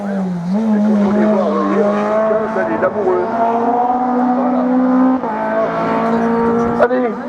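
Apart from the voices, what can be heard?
race car at a regional hill climb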